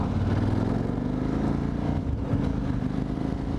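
Engine rumble from vehicles on a road, a steady low drone with passing traffic noise, fairly close and continuous.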